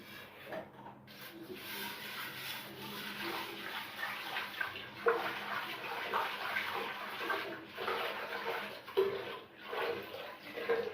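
Moong and masoor lentils being washed by hand in water, with a steady wet rubbing and sloshing of grains against a bowl, close and continuous throughout.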